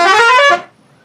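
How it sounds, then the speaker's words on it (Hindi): A truck horn honks once, loud and close, a bright tonal blast lasting about half a second before cutting off to near silence. "ये ट्रक वाले ज्यादा यूज करते हैं। तो ऐसे कुछ हॉर्न है काफी सारे"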